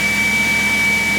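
A BMW 540i engine idles with its fan spinning in a steady, loud, unbroken drone and a thin high whine running through it, with no voices over it.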